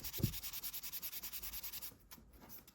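A sponge sanding pad rubs rapidly back and forth over primer on a scale model, giving a steady run of about fifteen quick, soft, close scrubbing strokes that pause briefly near the end.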